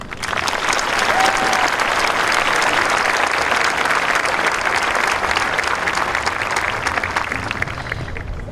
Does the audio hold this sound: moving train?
no